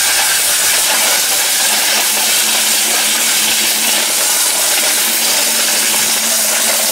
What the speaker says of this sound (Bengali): মোটা কাচ এইটা ব্লেন্ডারে দিচ্ছে ভাই